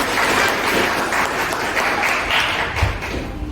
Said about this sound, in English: A round of applause for Areesha.